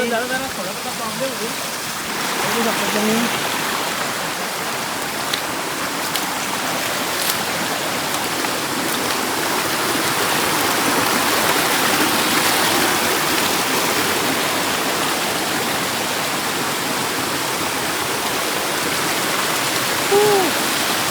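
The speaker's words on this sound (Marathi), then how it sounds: "मोठा झरणा धबधबा." A large waterfall roars as a loud, continuous rushing wash close by, steady for the whole stretch, with voices faintly talking beneath it.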